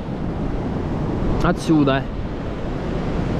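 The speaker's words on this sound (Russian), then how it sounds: "ух ты, чуть не накрыло нас штормом" Stormy surf in December on a Turkish beach: a constant loud roar of crashing waves and wind buffeting the microphone, with a short spoken word breaking through the middle.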